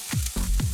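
Mushrooms tossed into a hot pan sizzle and fry loudly up close, with short bursts of stirring or scraping repeated in a quick rhythm.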